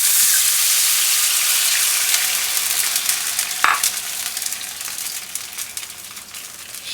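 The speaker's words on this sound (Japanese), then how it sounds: "全体に焦げ目がついてきましたら、だし汁を入れていきます。" Dashi broth is poured into a pan of browned pork rolls, giving a loud, steady hissing sizzle that eases off a little as the liquid settles, with a brief clink partway through.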